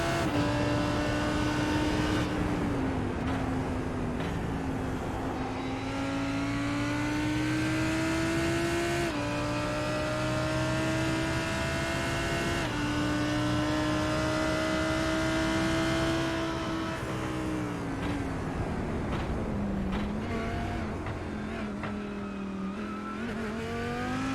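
Lamborghini GT3 race car in iRacing at Mosport, its engine droning loudly and continuously as it climbs and drops through gear changes and shifts in revs, heard from the cockpit.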